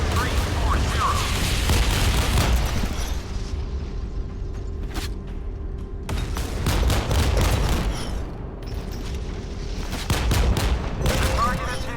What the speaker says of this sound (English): Rocket launcher, destroy the torpedo.